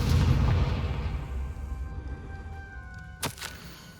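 A Confringo spell explosion in the Hogwarts Legacy video game gives a deep booming blast that rumbles away over a few seconds. A sharp crack comes near the end. There is no talk.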